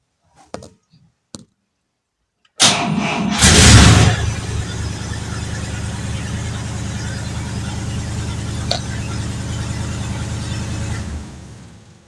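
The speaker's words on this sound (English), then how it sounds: "So you get a slow rev when you try to start it." A 1950 Cadillac running on its original 6-volt system, its starter cranking slowly before the engine catches and settles into a loud, steady idle heard up close, preceded by a few faint knocks and a brief silence.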